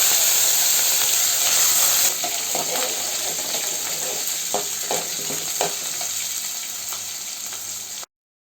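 Shallots, garlic, curry leaves and cumin sizzling in hot oil for a bitter gourd curry, a loud steady hiss that softens after a moment, punctuated by scattered crackles and stirring scrapes before cutting off.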